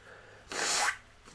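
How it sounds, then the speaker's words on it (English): One sharp, breathy sneeze of about half a second, close to the microphone and fairly quiet, with a faint sniffle after it and no talking. "I'm just sniffling like a crazy man."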